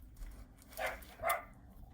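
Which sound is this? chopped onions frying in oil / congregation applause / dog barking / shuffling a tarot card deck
dog barking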